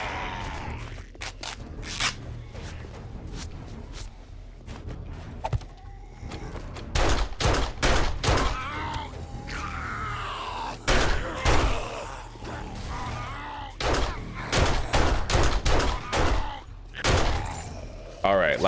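Gunfire in the survival game 7 Days to Die: a string of sharp, loud shots, some isolated and some in quick bursts, over a steady low game drone, with talk heard faintly in the background.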